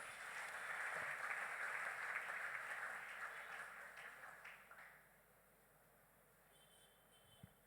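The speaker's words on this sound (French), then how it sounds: "On acclame très fort pour Jésus." A church congregation at a thanksgiving service applauds and cheers loudly for Jesus. The broad roar holds for about four seconds, then fades to quiet room tone with a faint thump near the end.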